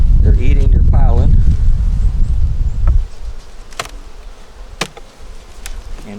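Honey bees buzz around their hive on a cold day, a low droning hum under a voice and rumbling wind noise for the first few seconds, then fainter with scattered sharp clicks.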